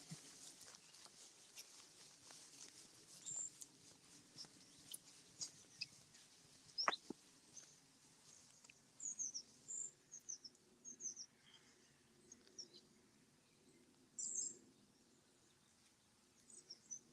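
Faint, scattered bird chirps and calls over quiet outdoor ambience, with a few sharper tweets standing out now and then.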